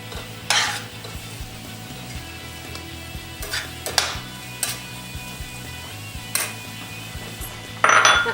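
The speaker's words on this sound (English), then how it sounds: "I'm just going to add them to the pan with the butter and let them get softening." Sliced shallots sizzle softly in butter in a pan, with a low continuous fry broken by several sharp utensil scrapes and clinks, close and without talk.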